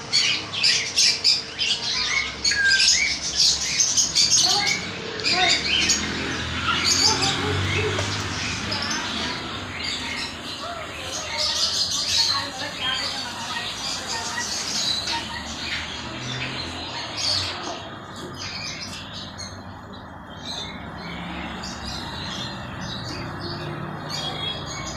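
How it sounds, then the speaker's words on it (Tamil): Lovebirds and other pet-shop birds chirping and squawking continuously, a busy layered chorus of shrill calls close by, with a quiet low hum underneath and squawks easing slightly toward the end. "எவ்வளோ அழகாக பேர்ட்ஸ் எல்லாம் சத்தம் போடுது."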